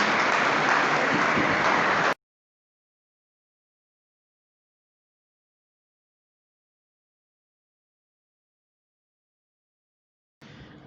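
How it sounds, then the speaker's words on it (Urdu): Audience applause welcoming guests to the stage at a school naat and speech competition, a dense burst of clapping for about two seconds, then silence, with clapping returning faintly at the very end. "آپ کی بھرپور تالیوں میں محبت اور عقیدت کے ساتھ ان کا استقبال کیجیے گا"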